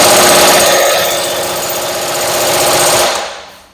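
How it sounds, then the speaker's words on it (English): An impact tool rattles in a loud, continuous burst for about three seconds while tightening the piston bolt on a New Holland tilt cylinder during a reseal, then stops abruptly. "now we're going to tighten the piston bolt"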